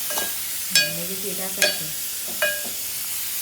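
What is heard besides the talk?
stirring masala frying in a pan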